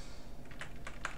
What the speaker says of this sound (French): le clavier fonctionne correctement